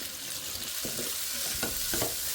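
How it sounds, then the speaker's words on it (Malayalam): Ada is sautéed in ghee for payasam, a quiet frying hiss with a few soft stirring scrapes and clinks against the pan. "അപ്പോൾ നമുക്കതും കൂടെ ഇട്ട് നന്നായിട്ട് നെയ്യിലൊന്ന് വഴറ്റിയെടുക്കാം"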